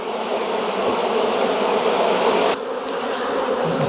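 Honey bees drone in a dense, steady buzz at an open hive during a July check, loud and close throughout with no talk, the swarm sound dipping slightly partway through.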